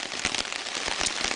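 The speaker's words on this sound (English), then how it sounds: "And it started to drizzle." Light rain drizzles on a lakeside campsite at Whiskey Jack Lake in Algonquin Provincial Park, making a soft, even patter with scattered close taps and no voices.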